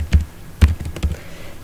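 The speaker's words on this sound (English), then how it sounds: "Here I'm typing" A few soft, uneven keystrokes on a computer keyboard, close and fairly quiet, with gaps between the taps.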